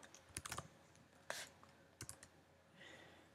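Keys clatter on a computer keyboard in short irregular bursts, a few quick clicks then pauses, close and fairly quiet while a line of code is entered.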